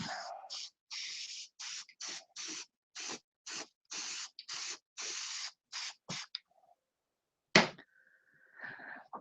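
Sanding a deep line out of a doped surface by hand, short rhythmic hissing strokes in quick succession, close and fairly quiet, ending with a brief pause and a few scattered scrapes.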